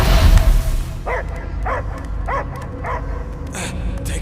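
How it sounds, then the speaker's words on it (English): A dog barks five times in an evenly spaced series over low game ambience and rumble in Marvel's Guardians of the Galaxy, with characters' voices nearby. "I hear only barking."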